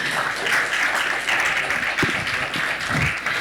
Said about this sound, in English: let's have a huge round of applause for Ariel here.